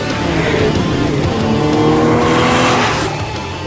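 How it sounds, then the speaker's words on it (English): A 2012 Porsche 911 (991) Carrera S with a 400-horsepower engine accelerates hard, the engine note rising and swelling loud and close before easing off at the end. "The car accelerates very smoothly and very quickly."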